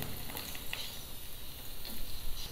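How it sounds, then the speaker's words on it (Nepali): Green chilies sizzling in hot oil in a preheated pan, a steady low crackle and hiss running close by throughout, with a few brief louder pops. "भाँडा तातिसकेको छ अब म यसमा खुर्सानी हाल्छु"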